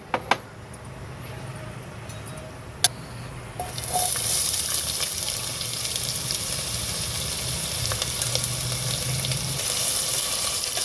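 Onion dropped into hot oil with whole spices while cooking masale bhat, a few sharp clinks then a steady, close sizzle of frying that swells and holds.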